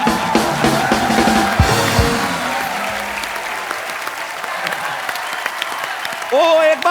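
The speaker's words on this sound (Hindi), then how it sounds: "ओ एक बार फोर्स 2 की सारी टीम के लिए जोरदार तालियां।" Studio audience applauding loudly on The Kapil Sharma Show, a dense steady roar of clapping that fills the clip, with brief voices and music stings cutting through near the start and end.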